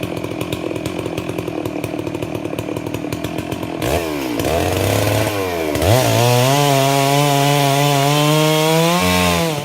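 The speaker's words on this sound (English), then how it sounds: "With a chainsaw." A chainsaw runs loudly and close, cutting through a fallen tree, its engine pitch dipping and climbing as it bites into wood, ending in a sustained high-revving cut.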